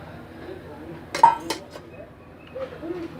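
Mint chutney is scooped into a bowl with a metal spoon, giving a few sharp clinks and scrapes of utensil against the dish, close and fairly clear over a low room hum.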